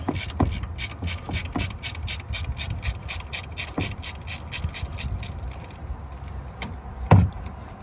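A ratchet wrench loosening an upper control arm bolt on a 2000–2004 Dodge Dakota or Durango 4x4, a fast even run of close clicks that slows and stops, followed by a few metallic clunks, no speech.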